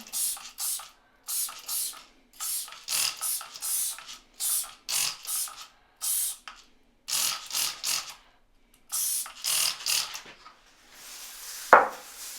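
A spray bottle fires off a long series of short, sharp hissing bursts of cleaner into a tiled shower corner, in quick clusters, close up, ending with a faint scrape.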